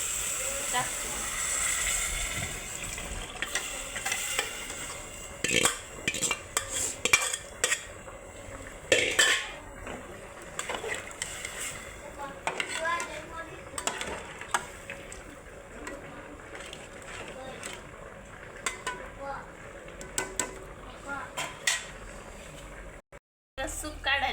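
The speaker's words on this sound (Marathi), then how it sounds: "आता मी सगळं भाजून घेते बघा मसाला भाजले बघा सगळं" Masala for biryani is stirred and roasted in a pan, with a spatula clattering and scraping against metal at an irregular pace. A faint steady hiss runs underneath, and someone talks over parts of it.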